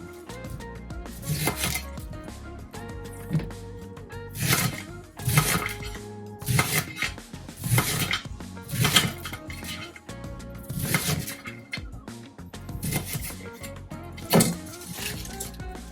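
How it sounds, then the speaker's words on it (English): A knife cuts up a cabbage on a cutting board in a steady run of close, sharp chops roughly once a second, with faint clatter between strokes and no talking. "I'm just going to continue to cut this up"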